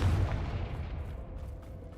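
Confringo spell explosion in Hogwarts Legacy, a deep, booming burst that starts strong and decays into a low rumble over a couple of seconds.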